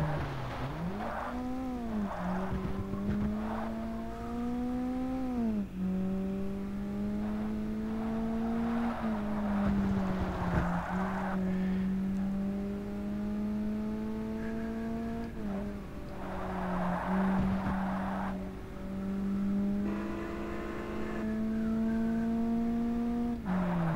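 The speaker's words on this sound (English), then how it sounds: "you want to be able to hear the car noise as well" A racing car engine in Forza Motorsport drones steadily, its pitch climbing and dropping repeatedly as it revs through gear changes, loud and continuous with no talking.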